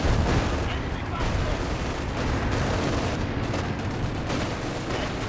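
Dense gunfire and booming artillery from a Company of Heroes 2 1v1 match, with base artillery shelling an MG34 position; a continuous, loud clatter of shots and blasts, with a voice talking over the battle.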